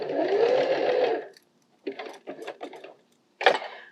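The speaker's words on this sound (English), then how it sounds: "we're sewing this right sides out because you're just attaching a lining" A sewing machine runs in short bursts while stitching a soft toy lining: one steady whirring run, a pause, then several quick stop-start stitching bursts, close and moderately quiet.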